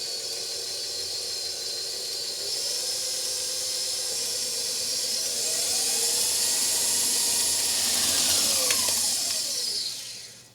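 Cake batter for a gluten-free pineapple upside-down cake is being mixed after milk is added. A loud, continuous whirring hiss with a shifting pitch lasts about ten seconds, then cuts off.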